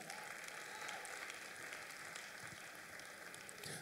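Steady, dense applause from a large audience at a live vocal competition grand final, sustained and even throughout with no pauses.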